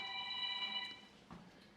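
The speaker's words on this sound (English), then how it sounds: "I'm happy when the ringtone starts" A phone ringtone goes off during a church sermon, a steady electronic melody of bright tones repeating for about a second before cutting off, faint against the room's background hum.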